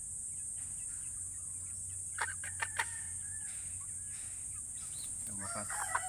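Golden buff chickens in a new free-range area give a few short, fairly distant clucks and crow-like calls at a moderate distance over a steady outdoor hum, with a small flurry of calls near the end.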